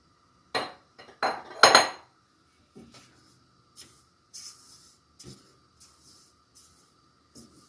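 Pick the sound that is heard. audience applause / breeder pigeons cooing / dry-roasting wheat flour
dry-roasting wheat flour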